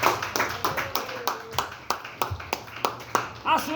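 A church congregation clapping in a rhythmic, steady beat at a Spanish-language evangelical service, with a voice talking over part of it.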